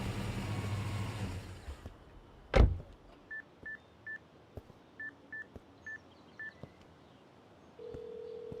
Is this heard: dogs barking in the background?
no